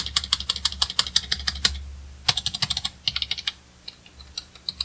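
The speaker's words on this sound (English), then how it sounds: "This is what a spacebar sounds like." Rapid clacking spacebar presses on a mushy budget Razer gaming keyboard close up, a quick burst of presses, a short pause, then another run of sharp taps fading into sparser clicks.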